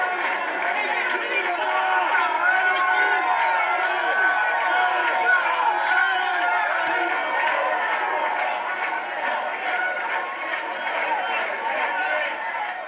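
Dense crowd of Toulon rugby supporters at Stade Mayol greeting players on their way to the changing rooms, a steady loud wash of chatter and cheering voices throughout with no pauses.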